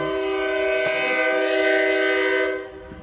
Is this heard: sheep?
no